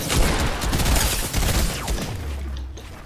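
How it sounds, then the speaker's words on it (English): Dense, rapid shotgun blasts and impacts rattle through a video game firefight, loud and overlapping, with a low rumbling thud near the end. "This kid's got a shotgun."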